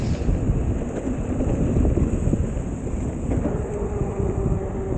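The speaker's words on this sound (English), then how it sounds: "You can hear it in the wind and the tires how fast we're going here." Mountain bike speeding downhill on the Blue Mound trail, a loud continuous rush of wind buffeting the microphone over the low rumble of tires rolling on rough ground.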